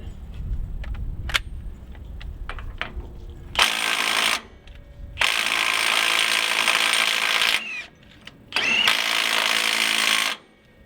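A Milwaukee M18 FUEL mid-torque impact wrench hammers against a stubborn bolt in three loud, sustained bursts of rapid rattling impacts, close up, separated by pauses with small clicks and handling noise.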